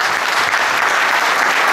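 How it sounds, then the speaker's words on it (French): Applause from a conference audience fills the room, a dense, steady clapping heard up close with no break. "on peut les applaudir une dernière fois."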